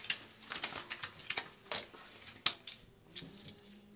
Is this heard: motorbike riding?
no